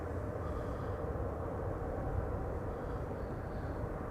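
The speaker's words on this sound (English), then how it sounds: "Right, Embraer 175 arriving from Luxembourg next" An Embraer 175 jet arrives at Amsterdam Schiphol Airport, its engines giving a steady, broad rumble that holds loud and even throughout, with no voices.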